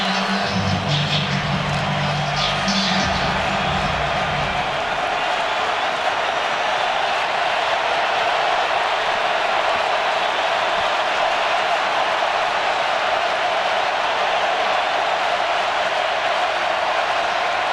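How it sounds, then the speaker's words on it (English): A loud stadium crowd at a night college football game, Notre Dame against Louisville, roars steadily and without a break, with brief talking near the start. "Third down, loud crowd under the lights."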